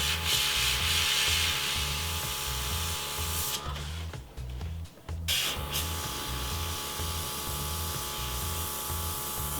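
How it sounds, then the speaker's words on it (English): An airbrush sprays rust-colored weathering paint onto a model freight car, a steady close hiss with a low rhythmic hum beneath, briefly cutting out midway before resuming. "So I'm spraying heavier up top and then I'm spraying much lighter down at the bottom."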